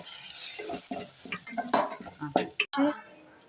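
A spoon stirs ground masala with red chilli, tomato puree and turmeric in a sizzling frying pan while rasam is being made, giving close scraping and clinking strokes over a soft, continuous sizzle.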